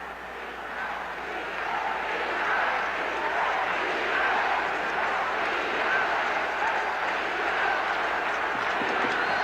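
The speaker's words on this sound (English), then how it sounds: "the crowd is chanting defense" A large football stadium crowd during a 1985 Saints at 49ers game, a dense, continuous roar of many voices chanting and swelling slightly, heard from a distance, with no clear individual words.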